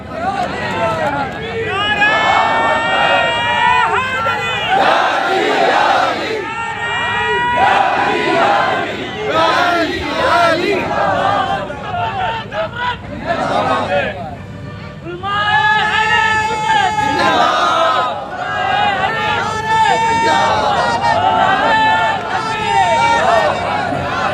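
A large crowd at a religious gathering in Bijapur chants slogans in loud, rhythmic waves of massed voices, rising and falling in repeated bursts across the whole stretch.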